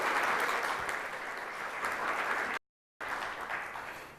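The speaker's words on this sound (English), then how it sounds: "let's give a round of applause to welcome them to the United States." Steady room applause greets visiting Chinese students at a roundtable event, sustained clapping from a gathered audience that cuts out briefly and then resumes just as full.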